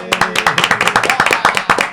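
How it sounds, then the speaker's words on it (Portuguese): A small studio audience claps together in quick, dense applause, with bright rhythmic hand slaps close by and steady throughout. "Salva de palmas para ele."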